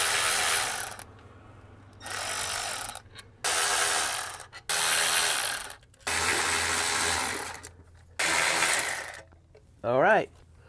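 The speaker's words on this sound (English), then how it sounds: "take these 1, 2, 3, 4, 5, 6 torque screws and take the unit out" A power driver removes the Torx screws holding the ABS unit of a BMW E39 M5, heard as about six loud, steady whirring bursts separated by short pauses, ending with a brief rising whine.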